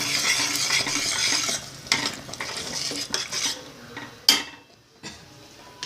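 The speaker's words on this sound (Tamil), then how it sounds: "இதுக்கு நேராக இந்த வேப்பம்பூ வந்து சேர்த்துருங்க. எல்லாத்தையும் நல்லா மிக்ஸ் பண்ணிடுவோம்." Mango pachadi with neem flowers being stirred in a pan for the Tamil New Year: a steady scraping and clinking of a spoon against metal with a soft sizzle, fairly close, fading and trailing off near the end.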